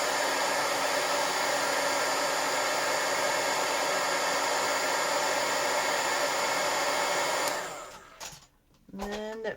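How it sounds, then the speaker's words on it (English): Heat gun blowing a steady loud hiss while melting embossing powder on homemade buttons, running unbroken for several seconds before cutting off, followed by faint handling clatter. "And I take my heat gun"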